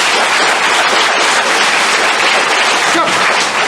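A room full of students claps together in a dense, sustained patter that sounds almost like rain, loud and continuous throughout.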